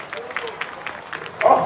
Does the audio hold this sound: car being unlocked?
no